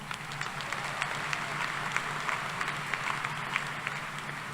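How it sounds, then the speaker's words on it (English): Commencement audience applauding at a Texas A&M University-Corpus Christi spring graduation, a steady dense wash of clapping from a large crowd with scattered sharper claps throughout, no talk over it. "Let's give one more round of applause to Dr."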